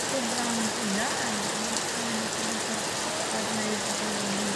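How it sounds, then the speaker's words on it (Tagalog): Heavy afternoon rain pours steadily onto a house roof in a dense, continuous roar, with a faint low hum beneath it. "naman sobrang ulan"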